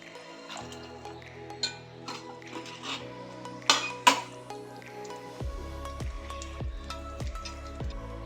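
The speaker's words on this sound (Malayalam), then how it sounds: "ഇനി നമുക്കൊരല്പം വിനാഗിരി കൂടി ചേർത്ത് കൊടുക്കാം" Vinegar poured into brinjal pickle cooking in a pan, giving soft liquid pours, drips and clinks of a utensil, followed by a steady rhythmic bubbling as the mixture simmers.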